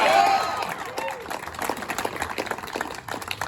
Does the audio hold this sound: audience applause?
yes